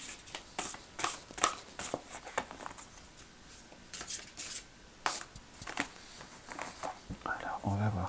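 Oracle cards, a fairy deck, are shuffled by hand in quick riffled bursts of crisp flicks, close up, while someone speaks softly over them.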